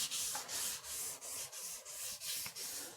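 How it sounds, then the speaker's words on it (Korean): Fine 400-grit sandpaper rubbed lightly across the surface of a handmade belly board, a steady rhythmic hiss of back-and-forth strokes, close and continuous with no talking. "사포질을 해주시면 돼요."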